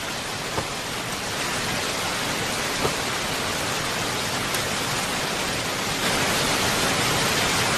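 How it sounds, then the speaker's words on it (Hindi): Rain falls in a steady, even hiss throughout, with a few faint isolated drop impacts standing out against the continuous wash. "बारिश हो रही है, कैसे उनकी गंध मिट जाएगी।"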